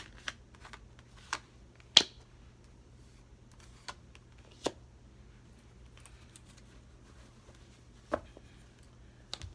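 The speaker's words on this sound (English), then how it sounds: "So I'm just going to pull a couple of more cards for confirmation." Tarot cards are being handled and pulled from a deck, giving sparse, sharp flicks and snaps spaced irregularly over a quiet background hum, close and fairly soft with no talking.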